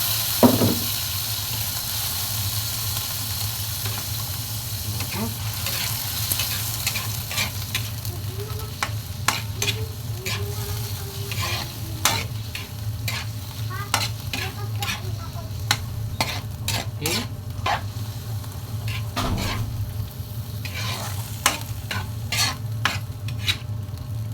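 Squid sizzling in a pan for adobong pusit, a steady close frying hiss with repeated scrapes and clacks of a utensil stirring, lasting throughout and with no talk.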